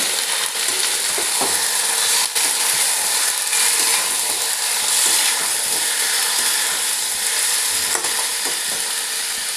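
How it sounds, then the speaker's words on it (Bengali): Meat stirred in a hot frying pan, a steady close sizzle and frying hiss with occasional scraping knocks of the spoon, no voices over it. "মাংসটাও ভালো করে একবার নাড়িয়ে নিচ্ছি।"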